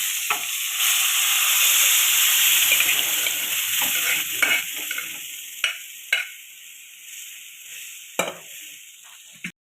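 Chopped greens poured into a hot cooking pan, a loud bright sizzle surging at first and fading, followed by several sharp scraping clacks of a spoon stirring against the pan.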